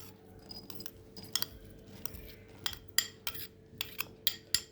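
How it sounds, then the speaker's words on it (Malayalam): Chopped onion, tomato and capsicum for a veg cheese sandwich are dropped into a bowl, giving light clinks and taps of utensil against the bowl, quiet and intermittent, close by, with no talking. "ഇനി അരിഞ്ഞു വെച്ചിരിക്കുന്ന ഈ വെജിറ്റബിളെല്ലാം നമുക്കൊരു ബൗളിലോട്ടിടാം."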